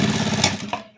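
A sewing machine stitches a blouse neck piece in a quick, close burst of rapid needle strokes lasting under a second, then stops abruptly.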